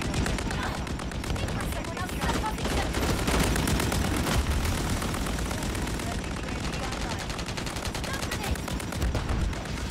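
Dense, continuous gunfire and bursts from the battle-royale shooter Farlight 84 run loud throughout, with overlapping shots and booms forming a steady wall of combat noise and a voice partly buried under it.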